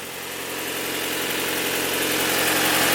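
A Honda Integra engine idles just after a jump start, a close, even mechanical hum with a steady low vibration and slowly rising loudness, with no voices.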